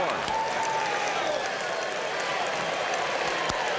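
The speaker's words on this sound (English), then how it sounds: "the crowd roars in anticipation of the at-bat from Rachels" Crowd at a college baseball game, the 1998 College World Series finals between USC and Arizona State, a sustained roar of cheering and clapping from a large stadium audience, continuous and fairly loud, with a faint whistle-like tone early on.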